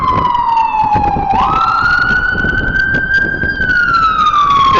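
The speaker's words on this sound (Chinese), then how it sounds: "不知道是消防车还是救命车啊，甚至有时候是警车的声音" A loud wailing siren from an emergency vehicle on a Toronto street sweeps down, then rises and holds a high tone before falling again, close by over steady traffic rumble.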